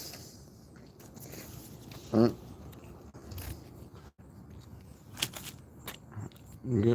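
Someone eats a sub sandwich up close, with soft, irregular crunchy bites and moist chewing sounds spread across the stretch, intermittent and fairly quiet.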